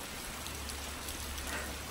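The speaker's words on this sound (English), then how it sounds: "This is good, soaking rain." Steady, soaking rain falls on a hay farm, a dense, even hiss of drops pattering on surfaces, constant and close, with no voices.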